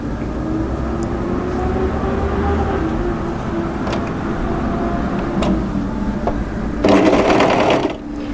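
An overlocker runs steadily, stitching a seam on drop-crotch joggers, a continuous close mechanical whir with faint clicks, briefly rising in intensity near the end.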